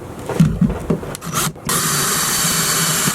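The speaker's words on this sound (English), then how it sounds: "you just drill hole here, and a hole up there with an 1/8 of an inch drill bit" A power drill with a sharpened 1/8 inch bit bores holes for a component speaker install in a 2002 Honda CR-V, starting with short uneven bursts of grinding before settling into a steady, loud, continuous whir close to the microphone.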